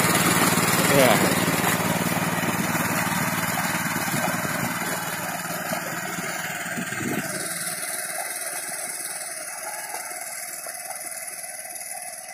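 A small 900cc Firman mini tractor engine runs with a steady, buzzy mower-like drone that gradually softens, and someone talks over it at close range.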